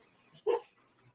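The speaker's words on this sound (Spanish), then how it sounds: "Me disculpa por los ladridos." A single short dog bark, fairly close and loud, standing out against a quiet background.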